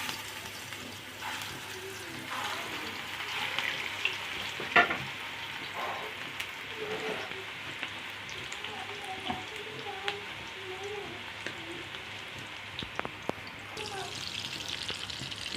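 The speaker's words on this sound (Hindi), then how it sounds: "इसको हम ऑयल गर्म हो गया, 2 चम्मच ऑयल लेंगे। अब हम इसको तलेंगे।" Beef handi kebabs fry in two spoons of hot oil, giving a steady close sizzle and crackle with occasional stirring clatter and brief pops throughout, no talking.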